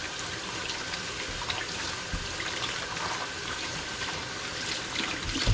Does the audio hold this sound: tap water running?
yes